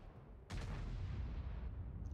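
A single artillery shot fires in World of Tanks: a sharp, heavy boom that decays into a long rumbling tail, heard alone without talk.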